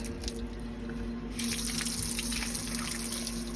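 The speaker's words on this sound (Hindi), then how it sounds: "अपनी टूटी चला लेंगे" Tap water runs steadily into a basin for washing feet, a smooth hissing flow that swells into a fuller, louder gush partway through.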